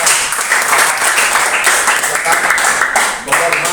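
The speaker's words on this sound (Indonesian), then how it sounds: "Jadi berikan tepuk tangan" A classroom of students claps for a group presentation, with a loud, close burst of dense applause that carries on steadily for several seconds.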